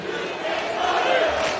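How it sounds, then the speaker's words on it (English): NC State basketball fans in an arena chant in unison during an NCAA tournament game against Texas Tech, a loud, dense crowd roar that swells slightly toward the end. "The NC State fans are chanting, "You can't guard him.""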